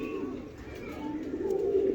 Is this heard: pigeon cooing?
yes